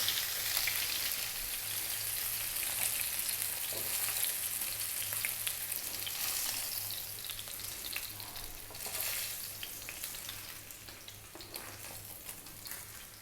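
Spiced fish frying in hot oil, a loud continuous sizzle and crackle that swells and eases slightly throughout, with no talking.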